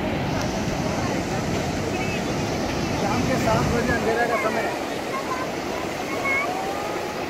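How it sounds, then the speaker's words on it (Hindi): Sea waves surge and wash onto a beach in Colombo, Sri Lanka, in the evening, a continuous roaring rush with wind noise while someone talks over it. "लहरों की आवाज, तेज गति से आते समुद्र की ये बौछारें।"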